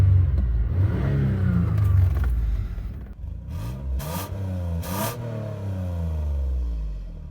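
A 20-year-old luxury SUV engine idles, then revs sharply twice and drops straight back to a smooth, steady idle, close and clear with no voices.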